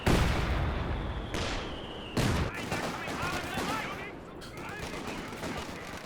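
A double mortar barrage lands during a Company of Heroes 2 4v4 battle on La Gleize. Several sharp, loud impact blasts arrive a second or two apart over continuous crackling gunfire and battle noise.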